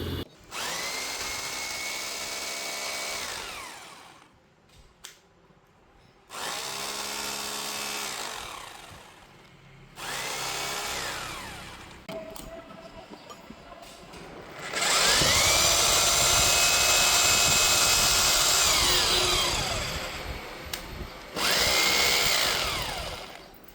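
A Boray hammer drill with 32 mm drilling capacity whines loudly in repeated bursts, spinning up and winding down between short pauses, with one longer, harsher run near the end.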